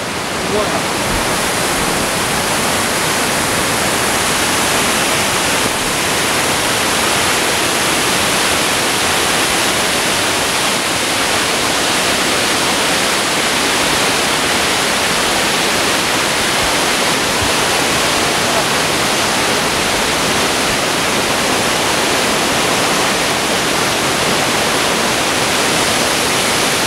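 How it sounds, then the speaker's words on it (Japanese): Waterfall at Kawazu Seven Falls roars as a dense, constant broadband rush of falling water, loud and unbroken for the whole stretch. "ここにも滝がある。"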